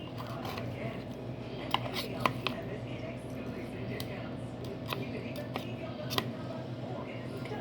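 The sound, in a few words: cutting up broccoli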